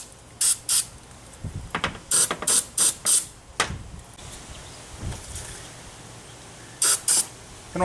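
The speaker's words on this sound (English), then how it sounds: "I'm going to spray around in here pretty good." Short bursts of aerosol cleaner sprayed into the throttle body of a 2002 Pontiac Grand Am 2.2L Ecotec, several quick hissing blasts in clusters with pauses between, close up and fairly loud, alongside light handling noises.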